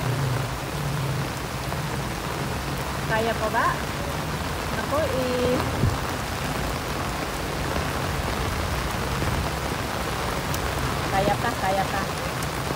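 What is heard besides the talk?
continuous heavy rain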